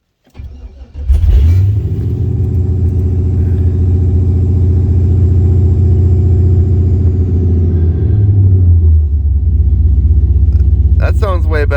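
A car engine cranks and fires up after an idle air control (IAC) adjustment, then settles into a steady, even idle rumble close by, with a brief dip in pitch near the end and faint sounds at the very close.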